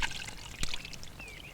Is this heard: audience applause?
no